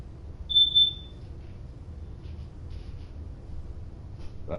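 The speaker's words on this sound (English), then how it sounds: "That sounds like a smoke detector with a dead battery." A single short, high electronic chirp from a smoke detector with a dead battery, heard once near the start over a low steady background hum in a Fallout 4 game setting.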